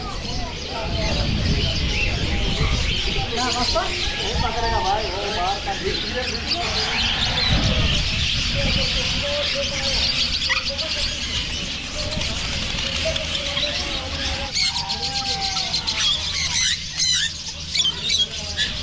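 Dense, loud chorus of many birds squawking and chirping at once, a constant crowded din with some people talking underneath, in a bird market in Doha, Qatar.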